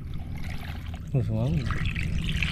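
Water is poured out of a container holding small tilapia fish, a steady trickle and splash running under background noise while a voice speaks briefly.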